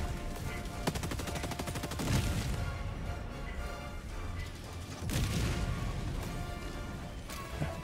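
Rapid, sustained automatic gunfire from a weapon in Helldivers 2 during a solo Super Helldive mission against bots, dense bursts rattling on with heavy impacts and crashes mixed in, loud and close throughout.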